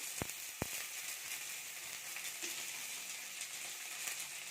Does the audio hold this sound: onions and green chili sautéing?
yes